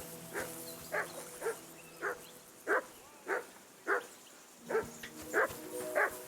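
A dog in Kingdom Come: Deliverance 2 barks about ten times in an uneven rhythm, each bark short and moderately loud, with a low hum beneath and no talk.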